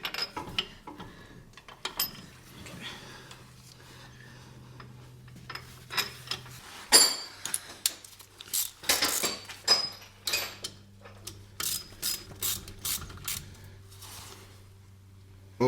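Ratchet wrench with a 12-point socket tightening a ball joint on a Jeep, with a series of close metallic clicks and clanks that grow busier toward the end, over a low steady hum.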